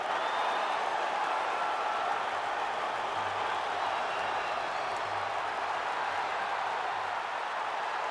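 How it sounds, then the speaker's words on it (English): Arena crowd in the UFC 5 video game roaring steadily through a fight, a dense, continuous wash of cheering that stays loud and even throughout. "Crowd fired up, so are we."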